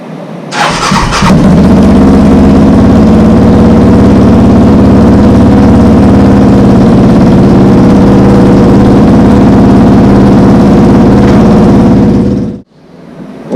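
A Yamaha Raptor 700 ATV's four-stroke engine fires up with a brief rough start, then settles into a loud, steady, close idle that runs uninterrupted until it cuts off near the end.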